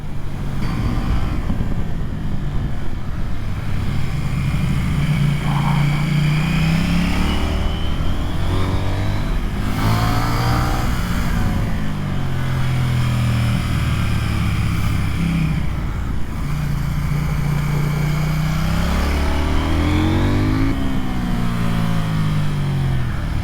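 A CF Moto NK800 motorcycle is ridden hard and revved through the gears, its engine note climbing and dropping in repeated waves under steady wind rush, sustained and close.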